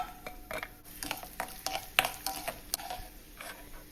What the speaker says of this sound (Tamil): ஒரு பாத்திரத்தில் நெய் ஊற்றி முந்திரியையும் திராட்சையும் வறுத்து எடுத்துக்கலாம்